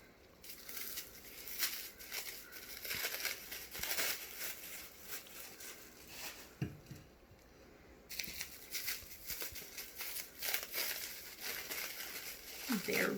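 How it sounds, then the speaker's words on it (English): Plastic wrap is peeled off frozen baking soda bombs, close crinkling and rustling that comes in uneven bursts and stops briefly partway through, softly underneath a voice talking. "As you can see, the plastic wrap unwraps really well."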